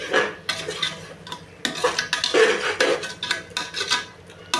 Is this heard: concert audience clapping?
no